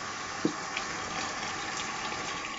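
Water is poured steadily into a shaving scuttle, making a continuous gushing, filling rush for a few seconds, near and alone with no talk.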